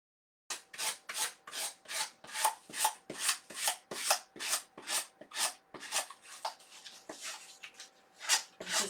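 A sanding block rubs back and forth along a paper-covered edge at an angle, giving about twenty close, steady rasping strokes in a quick even rhythm, near and alone.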